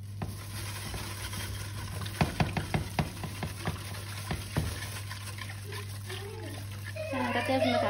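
Melted butter is stirred into warm milk and sugar in a pot, giving a run of soft wet sloshing and clinking strokes close by, with someone talking over them.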